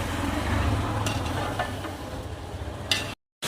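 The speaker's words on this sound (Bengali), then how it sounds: "মশলা কষানো হচ্ছে" Spices and meat for a curry sautéed and stirred in a large pot, a continuous close sizzle with a few scraping stirs, ending in a brief cutoff.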